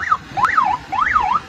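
A police-style wailing siren sounded from a motorcycle taxi in Rio de Janeiro, rising and falling tones sweeping up and down in quick repeated cycles, loud and close with nothing else over it.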